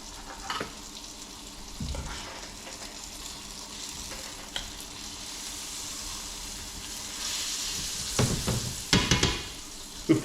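Lampuki fish fries in a pan with garlic, a steady low sizzle and crackle that swells near the end with louder spattering bursts.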